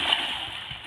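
A splash as a child jumps into a small, clear river in Chirang, Bodoland, Assam, a single brief splatter followed by sloshing water, fairly close.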